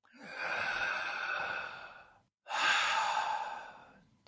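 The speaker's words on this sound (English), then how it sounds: "Keep breathing." Two slow, deep breaths of a guided breathing exercise, each a long airy exhale of about two seconds with a brief silent gap between, close and fairly soft.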